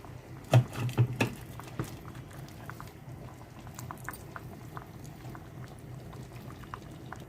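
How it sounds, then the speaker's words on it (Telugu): A pot of tamarind-style broth with boiled, ground chana dal paste stirred in simmers steadily with a soft, continuous bubbling, a few louder pops and spoon touches near the start, then an even low burble. "ఇది బాగానే పులుసు మరుగుతుంది కదండి"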